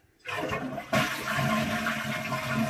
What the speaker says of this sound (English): we're going to flush this to empty the tank right out